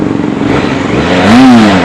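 A Benelli TRK 502 motorcycle engine revs loud and close on a ride, a steady drone that swells to a brief higher-pitched rise near the end.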